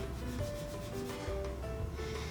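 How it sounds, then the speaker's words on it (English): Quick, steady rubbing strokes of sandpaper flattening a small leather pool cue tip, a dry scratchy sound repeating without pause. "you just keep sanding it flat until the shiny part's gone"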